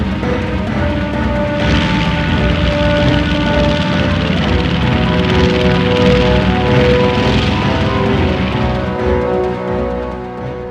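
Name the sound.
WWII aircraft engines during Midway attack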